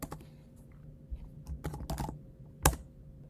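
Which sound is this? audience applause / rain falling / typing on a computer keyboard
typing on a computer keyboard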